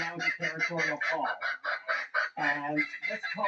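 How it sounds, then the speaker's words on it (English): An Australian native bird gives a territorial call, a run of loud, harsh, honking notes in quick rhythmic bursts, close and alone. "What you're hearing right now is a territorial call."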